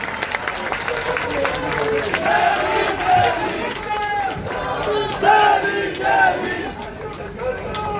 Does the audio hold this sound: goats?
no